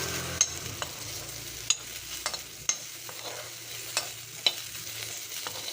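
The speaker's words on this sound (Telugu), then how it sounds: "కొద్దిగా నూనె 2 డ్రాపుల నూనె వేసి వేయిస్తున్నాను నేను." Onions frying in a couple of drops of oil in a pan on a stove, a soft low sizzle with sharp intermittent taps and scrapes of a spoon stirring.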